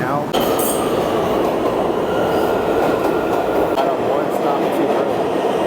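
A subway train rumbles loudly and steadily close by, with metallic clinks and faint wheel squeals riding over the continuous roar.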